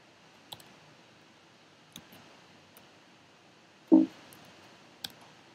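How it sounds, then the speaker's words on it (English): Computer keyboard keys being pressed, heard as a few sparse, isolated clicks with one louder thump near the middle, close by in a quiet room with no talking. "now I've managed to press two keys at once"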